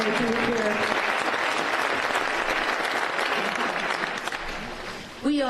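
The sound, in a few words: audience applause at an event opening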